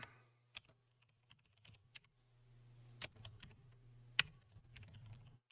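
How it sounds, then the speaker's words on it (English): Typing on a loud computer keyboard: uneven clicks and clacks, with several sharper key strikes standing out over a low steady hum. No one speaks. "my keyboard's really loud."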